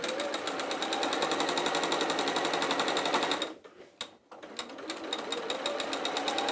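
Sewing machine stitching through quilt layers with wadding, a fast, steady needle rattle close up that briefly slows and stops before running again.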